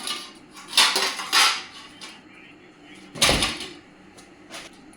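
Metal lids and plates from a household utensil set clattering as they are handled, with several bright clanks close by and a person talking in between.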